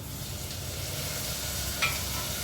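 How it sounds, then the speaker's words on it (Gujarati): Dal tempering sizzles in hot oil with a close, steady hiss and crackle, and one brief sharper spatter near the end. "દાળ જો વઘાર મારે છે મમ્મી"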